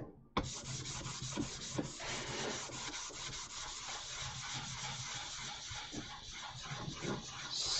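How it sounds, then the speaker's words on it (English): A sanding block rasps back and forth across a hard plastic model kit surface in quick, continuous scrubbing strokes, close by and fairly loud. "let's get this good old sanding block done here"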